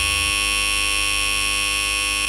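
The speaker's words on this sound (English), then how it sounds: "The master gives the order to sound the signal to summon the crew to their muster stations." A ship's emergency muster alarm: a loud, steady electronic tone with a harsh buzzing edge sounds continuously, unbroken and close.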